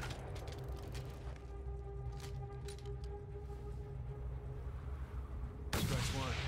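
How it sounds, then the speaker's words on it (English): Sniper rifle fire in the Mad Max video game: a constant low rumble with faint cracks, then one sudden loud boom near the end, under a voice speaking. "I could take him out with the sniper rifle."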